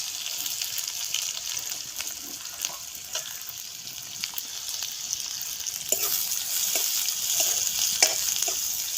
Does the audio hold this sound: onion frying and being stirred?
yes